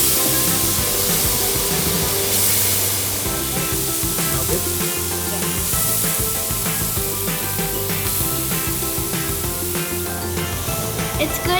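Vegan burger mix frying in olive oil in a pan, a loud, dense, continuous sizzle with repeated sharp crackles and spatters throughout, close and unbroken.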